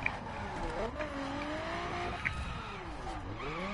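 A car racing in a PS4 driving game, engine revving up and down through gear changes with brief tire squeals, steady and close throughout.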